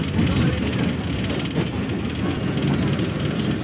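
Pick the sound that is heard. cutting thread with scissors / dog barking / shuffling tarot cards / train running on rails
train running on rails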